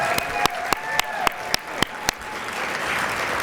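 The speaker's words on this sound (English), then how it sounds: "Please give Carolyn a round of applause." Attendees at a municipal league's 91st annual conference applaud Carolyn. A few sharp, evenly spaced claps stand out at first, then blend into a softer wash of general applause.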